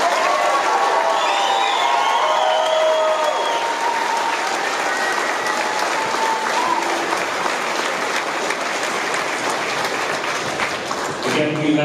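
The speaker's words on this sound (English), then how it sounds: "If we give them another round of applause." A large graduation audience applauds the class of 2024 in a long, dense wash of clapping with some cheering and whoops mixed in, holding steady for nearly twelve seconds.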